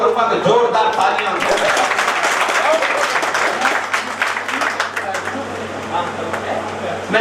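A dense, loud wash of applause comes from an audience at a ceremony honouring police officers and journalists. The clapping runs steadily throughout with a crowd murmur underneath.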